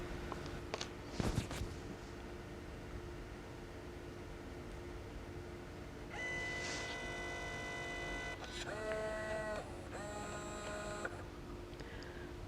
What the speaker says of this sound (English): it will print out a couple of little border strips for you